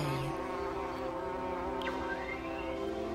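A bee buzzes steadily and close, a continuous droning hum with no voices, holding an even loudness throughout.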